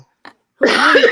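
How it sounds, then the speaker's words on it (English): A single loud, raspy smoker's cough from an older woman bursts out close by after a brief faint sound, harsh and throaty. "That was like one of them smoker coughs or something."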